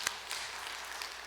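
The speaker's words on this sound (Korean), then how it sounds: "우리 박수 한번 할까요?" A church congregation claps after a choir's hymn at a Wednesday service, a soft, dense patter of many hands heard from a distance, brief and fairly faint in a reverberant hall.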